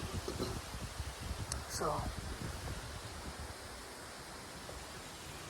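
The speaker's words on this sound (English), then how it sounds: "you might be able to hear it on video that it's pretty windy" Steady, gusty wind noise buffets the microphone with a low rumble throughout, and a voice says a brief word near the start.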